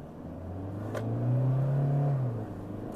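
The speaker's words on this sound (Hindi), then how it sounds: "तो गाड़ी ने पिक किया और ये 80 हम लोग टच करने वाले हैं" A 2023 Toyota Hilux pickup accelerates in power mode, its engine note rising into a steady, loud revving drone that swells and then eases off, with no talk over it.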